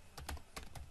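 Typing a password on a computer keyboard at an Ubuntu login screen, a quick cluster of four or five sharp, close key clicks in under a second.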